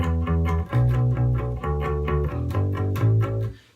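An electric bass guitar plays a repeating two-bar low verse riff of plucked notes in a steady rhythm, heard alone and fairly quiet.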